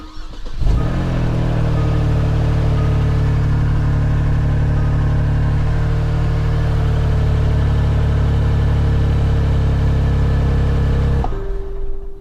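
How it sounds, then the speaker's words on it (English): A car engine with an exhaust leak underneath fires up and runs at a loud, steady, rough drone for about ten seconds before abruptly shutting off. "it sounds like an exhaust leak from underneath the car"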